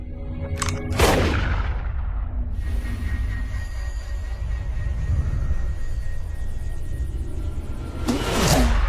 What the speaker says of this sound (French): Maintenant, tire sur la cible.